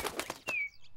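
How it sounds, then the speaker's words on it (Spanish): Cartoon bird taking off from a Peppa Pig scene, a quick burst of soft wing flaps followed by a thin whistling glide and a short chirp, close and fairly quiet with no talk. "Un ave se come las semillas del abuelo."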